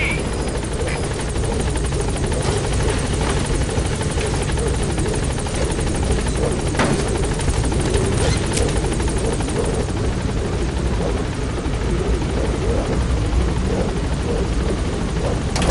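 The Pequod helicopter in Metal Gear Solid V approaches the landing zone, its rotor and turbine a loud, steady, unbroken roar throughout.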